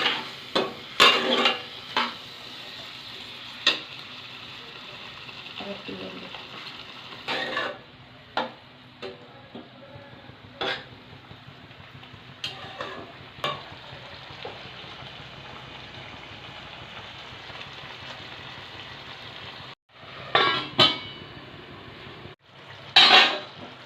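Ridge gourd and potatoes are stirred in a pan with a metal spoon, making intermittent scrapes and sharp clinks against the pan over a faint background hiss.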